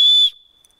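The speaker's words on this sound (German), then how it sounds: "und eine Pfeife" A single short blast on a small emergency whistle from a rescue bag kit, loud and close, lasting about a quarter second before cutting off into quiet.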